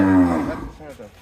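A Jersey or Sahiwal dairy cow gives a single low, drawn-out moo that starts loud and tails off, heard close by with people talking nearby.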